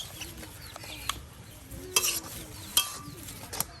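Mixed leafy greens are turned over and over in a cooking pan with a metal utensil, producing soft sizzling and rustling punctuated by sharp clinks of metal on the pan, close-up with no talking.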